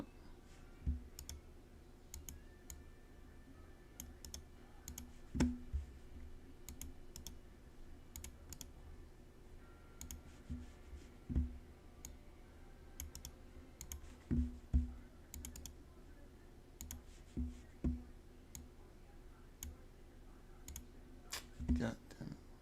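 Repeated clicking and keyboard-like tapping at a computer, scattered light clicks with occasional louder ones, close and fairly faint under a person talking.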